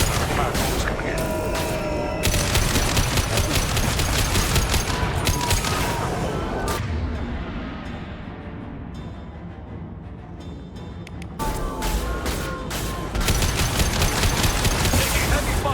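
Sustained heavy gunfire in the sci-fi shooter Mass Effect 2, dense rapid bursts and booms rattling loud and close, dropping briefly into a muffled lull before the barrage resumes, with game voices mixed in.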